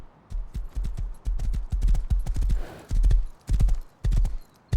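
Horse hooves clip-clop at a steady riding pace in the survival video game Rust, a run of loud, close, evenly spaced thuds with brief pauses between strides.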